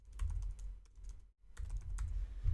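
Fast typing on a computer keyboard, a close, steady stream of key clicks with one brief pause partway through and no voice over it.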